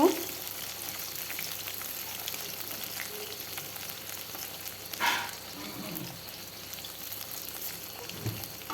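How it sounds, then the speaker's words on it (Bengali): Fish frying in oil for a fish curry, a low steady sizzle with a few louder spatters and stirring clinks, quiet and close, without speech. "এইভাবে ভালোভাবে ভেজে নেব"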